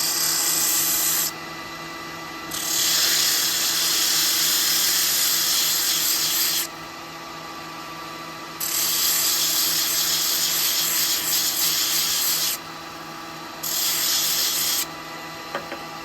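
A sanding arbor works a spalted wood vase on a lathe in repeated loud bursts of steady abrasive hiss and whirr, each lasting a few seconds, separated by short quieter gaps where the motor hum continues alone.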